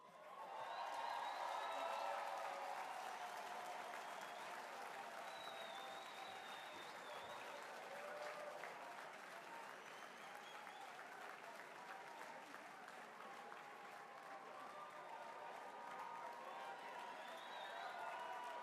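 An audience at a formal gathering applauds warmly for a sustained stretch, steady clapping from a large room that swells early and then evens out, with a few voices faintly mixed in.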